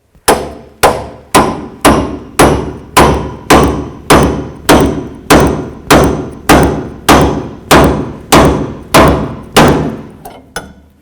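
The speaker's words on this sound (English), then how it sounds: "So I'm going to use a pickle fork right here and take this tie rod end out." Steady, loud hammer blows, about twenty evenly spaced metallic strikes, drive a pickle fork to free the tie rod end on a 1984-2001 Jeep Cherokee; each hit rings briefly and the rhythm slows slightly at the end.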